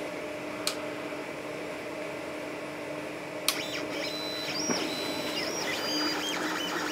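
An Orcinus (Orca) 3D printer runs a 600mm/s, 35K-acceleration speed test with a 4020 blower fan, giving a steady mechanical whir with rapid stepper-motor whines and a few sharp clicks, close and continuous.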